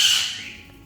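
A bird in a farmhouse aviary gives one loud, harsh squawk that fades quickly, heard alone and close during a rainy typhoon season.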